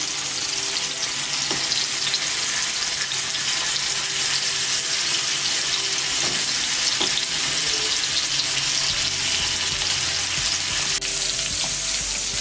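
Fish pieces for fish biryani shallow-frying in hot oil, a steady, dense sizzle and crackle running unbroken throughout, with a few faint clinks and no voices.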